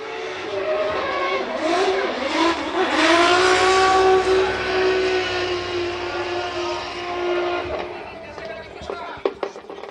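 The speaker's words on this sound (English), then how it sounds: "On throttle, laying down a thick blanket of smoke." A drift car on full throttle at Fuji Speedway during drift qualifying, with an engine roaring loud and close, revs sweeping up and holding high, then fading, with tire noise and a few sharp clicks near the end.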